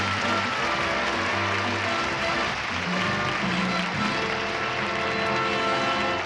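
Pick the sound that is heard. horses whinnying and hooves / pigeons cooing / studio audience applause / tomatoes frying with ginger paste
studio audience applause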